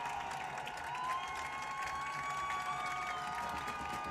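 A high school football crowd roars and cheers at an outdoor game, a continuous dense wash of voices and noise from the stands, steady and moderately distant.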